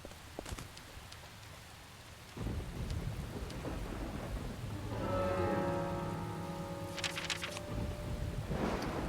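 Night rain in the video game Deadly Premonition falls steadily while thunder rolls in, with a sharp onset after a quieter start and a long low rumble through the middle; no one speaks.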